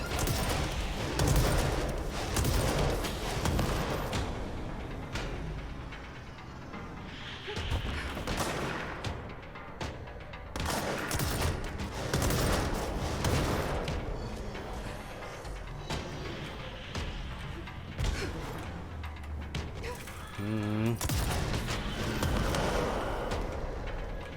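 Dense, continuous gunfire from a favored weapon in the video game Control, loud rapid shots blending with explosive game effects throughout, with no talking over it.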